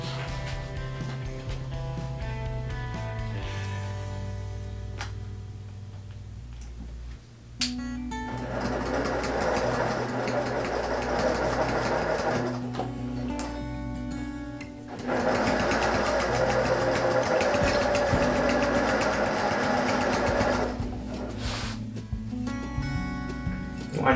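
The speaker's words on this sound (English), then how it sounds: "I'm going to sew on this binding with about a 1/8 inch seam all the way down" Sewing machine stitching binding onto a fabric lunch bag with a narrow seam, a steady mechanical whir running in long bursts with short pauses between, loud and close with no talking.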